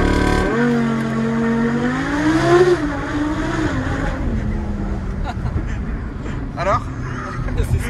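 An Audi R8 V10 engine revs and holds around 3,000–4,000 rpm on launch control, then surges as it launches away, the pitch climbing and dipping, with talk and road noise after.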